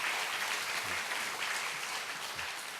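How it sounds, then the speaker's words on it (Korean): A church congregation claps steadily for a few seconds, moderately distant, with a low murmur of voices beneath. "여러분 박수로 축하해 주시기 바랍니다"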